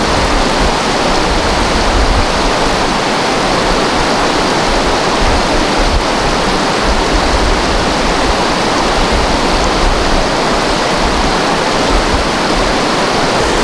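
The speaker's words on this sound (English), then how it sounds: "Head this way, you can hear the creek." Loud, continuous rushing water, a dense roar of a fast, swollen creek close by in the San Gorgonio Wilderness near Dry Lake, steady throughout with no voices.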